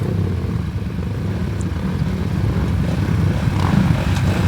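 Racing motorcycles idle and rev together on a starting grid before the green flag, a dense, steady low engine rumble holding loud throughout with a slight rise in intensity toward the end.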